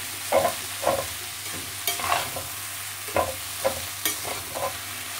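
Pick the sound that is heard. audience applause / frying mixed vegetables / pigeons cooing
frying mixed vegetables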